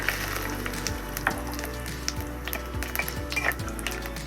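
Whole cumin seeds and bay leaves sizzling in hot oil, a steady crackling hiss with small pops and occasional utensil clinks, close and fairly quiet.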